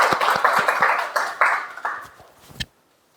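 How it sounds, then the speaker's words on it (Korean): A small group at a Buddhist scripture lecture claps in a brief round, distinct individual claps in an uneven rhythm that thin out and fade, ending on one sharp last clap, moderately close. "두 분은 지금 수고 박수를 한번 치고 할까요?"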